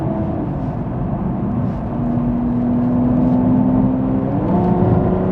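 An Aston Martin Rapide S accelerates gently, its engine a steady, close cabin drone whose pitch climbs smoothly through the revs, then drops and climbs again as the automatic gearbox shifts, with no voices.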